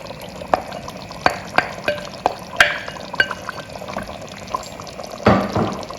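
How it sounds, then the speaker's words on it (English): Cocoyam leaves (kontomire) stirred into a simmering stew sauce make wet, clicking spoon strokes against the pot, several separate distinct stirs over a soft bubbling background, with no talking. "I'll go ahead and stir everything in."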